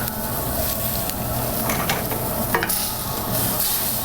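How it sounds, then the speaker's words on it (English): Rice sizzles and crackles steadily in a hot pan with stock, a dense, continuous frying hiss with faint stirring scrapes and small pops throughout, close and fairly loud with no talking. "I hear my rice starting to sizzle, crackle, and pop"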